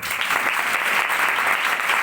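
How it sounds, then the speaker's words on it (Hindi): Dense, steady applause from a crowd at a youth church conference fills the whole moment, loud and continuous without any voices over it. "उनके लिए तालियां बजाएं"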